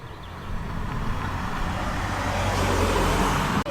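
Mark 1 Mazda MX-5 cars arrive at an evening car meet, their engines and road noise swelling steadily into a close rumbling pass.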